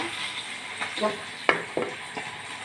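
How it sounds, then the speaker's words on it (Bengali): Fish fries in a pan with a steady sizzle, broken by several sharp scrapes and clinks as the pieces are stirred or turned. "মাছ ভাজা চলছে"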